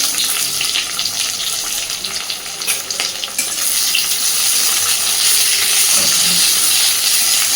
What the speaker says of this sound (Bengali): সুন্দরভাবে সব কিছুকে একটু ভেজে নেব